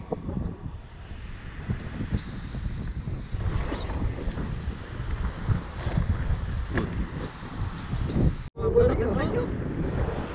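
Strong wind buffets the microphone out at sea near a small round basket boat on a spearfishing trip off Vietnam, roaring in gusts over waves while people talk.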